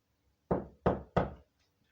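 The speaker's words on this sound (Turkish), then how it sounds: "Az önce bir kapıyı tık tıkladı." Three firm, evenly spaced knocks on a door of an abandoned house in İzmir, close and loud, each a hollow thud fading quickly, with quiet before and after.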